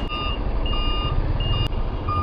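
A lorry's reversing alarm beeps steadily and loudly at a road junction, repeated evenly spaced tones over a continuous low engine rumble.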